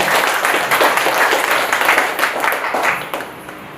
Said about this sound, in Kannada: ಜೋರು ಚಪ್ಪಾಳೆ ಮುಖಾಂತರ ಅವರಿಗೆ ಸ್ವಾಗತ